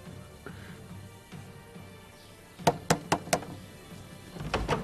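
Knocking on a wooden door in an Ottoman-era drama scene: four quick sharp raps in a row, then a couple more thuds, over a quiet low background hum.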